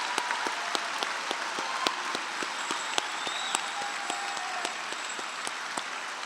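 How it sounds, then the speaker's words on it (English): A large crowd applauds graduating forestry and environmental resources students at a college commencement, a dense, continuous patter of many hands with a few sharper nearby claps standing out above the steady roar. "Now let's have one more round of applause for the graduates of the Department of Forestry and Environmental Resources."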